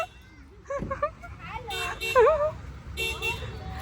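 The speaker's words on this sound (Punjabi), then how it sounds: "ਹਾਰਨ ਮਰੀ ਜਾਂਦੇ ਆ" Short car horn toots sound amid lively voices and children's chatter, a couple of bursts close by over a busy street.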